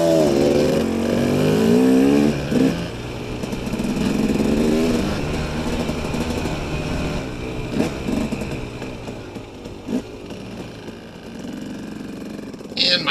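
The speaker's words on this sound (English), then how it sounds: "So you can hear that poor KTM, the way it's geared" A KTM 250 dirt bike and a KDX 200 dirt bike ride along a trail, engines revving and droning steadily throughout with pitch rising and falling, while a voice talks over the engine noise.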